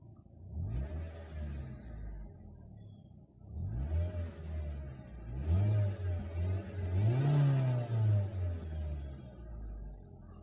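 Close engine revving of a 2010 Mazda MX-5 Miata in a few bursts, the pitch climbing and dropping, with a steady idle rumble in between.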